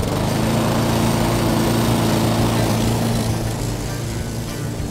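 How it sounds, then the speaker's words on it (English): A ride-on tractor lawn mower engine runs steadily and loud throughout, a continuous droning hum with a slight dip near the end, no voices over it. "We're learning about lawnmowers today."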